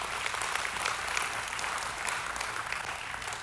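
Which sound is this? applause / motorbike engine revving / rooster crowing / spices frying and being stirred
applause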